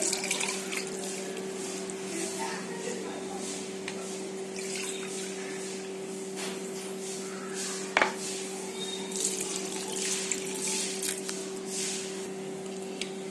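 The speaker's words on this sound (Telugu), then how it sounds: "ఇప్పుడు 1కి 2 కప్స్ ఆఫ్ వాటర్ వేసుకోండి." Water pours steadily onto vermicelli for microwave upma, a continuous splashing trickle with a steady hum in the kitchen behind it.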